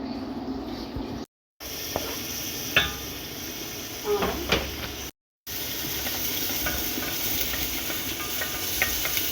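Tomatoes, onion and garlic sauté in a little oil in a pan for adas soup, giving a steady sizzling hiss with a few scattered clinks and stirring scrapes, heard alone with two brief dropouts.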